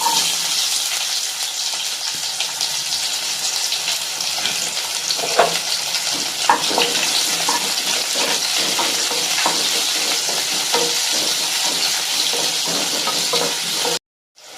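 Mustard seeds and urad dal sizzle loudly and steadily in hot oil in a pan, a close, continuous frying hiss with scattered small pops and no talking.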